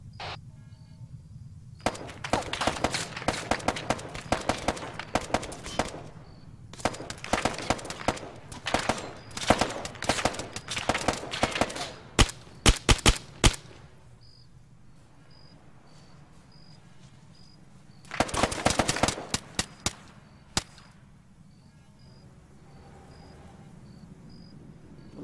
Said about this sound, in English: Shoot the street lamp.